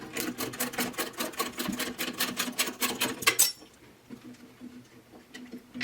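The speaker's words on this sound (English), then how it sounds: "The ratcheting makes it a little bit easier" A ratchet wrench clicks rapidly and steadily while loosening the chipper blade bolts on a DR Pro 400 chipper, close and fairly loud, then stops abruptly, leaving quiet handling noise.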